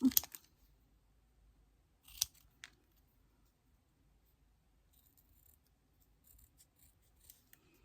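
Scissors snip paper for a scrapbooking art journal collage, a few crisp close cuts spaced apart with quiet pauses between and light rustling of paper.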